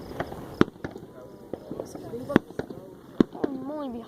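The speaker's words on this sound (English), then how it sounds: "All you hear is fireworks." Fourth of July fireworks pop and bang repeatedly at an irregular pace, some sharp and close, others duller and farther off, while people talk excitedly throughout.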